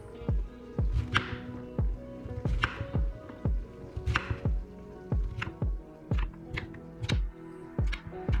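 A knife chops meat into thick chunks on a cutting board for a double meat spaghetti sauce: a steady run of sharp, close thuds, roughly two per second, with no talk.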